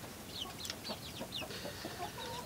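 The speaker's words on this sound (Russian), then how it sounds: "Курочка заболела." A sick hen makes soft, quick clucks and short chirping calls in a close, irregular series, with a faint background hiss.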